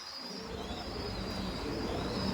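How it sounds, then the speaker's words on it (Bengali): Many pigeons of several breeds fill a loft with a dense, continuous murmur of cooing and rustling, steady and moderately loud throughout. "সমস্ত ধরনের পায়রা আছে"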